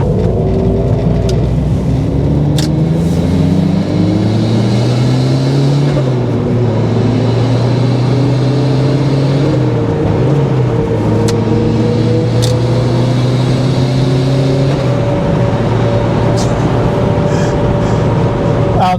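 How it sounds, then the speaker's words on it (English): Turbocharged Miata engine pulling steadily through the gears while driving on the road, with sweeping rises and dips in engine pitch and faint turbo whistle and whoosh over constant road and wind noise. "I'll never get over the turbo sounds of this car."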